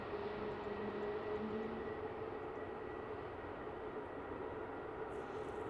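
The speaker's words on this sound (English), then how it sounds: "this latest EasyJet taxis for departure" An EasyJet airliner taxis for departure at Luton Airport, a steady broadband engine roar with a faint whine that holds evenly throughout, heard at a moderate distance with no talk.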